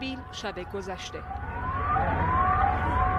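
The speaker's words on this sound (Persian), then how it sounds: "صدای آژیر خطر در پایگاه نیروهای آمریکایی در فرودگاه شهر" A wailing warning siren at a US forces base at a city airport rises and falls steadily, growing louder over a background hum, while a voice speaks briefly at the start.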